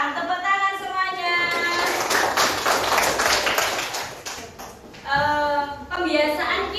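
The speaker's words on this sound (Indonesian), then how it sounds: "Tepuk tangan semuanya." Children in an Indonesian classroom clapping together for a classmate, a burst of rapid hand claps in the middle, with a voice and an adult speaking before and after.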